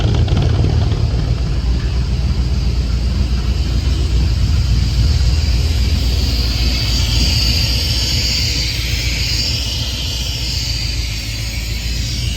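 A 1964 Ford Galaxie engine fitted with FiTech fuel injection idles on a cold startup at about 850 RPM, a loud, steady rumble holding evenly throughout.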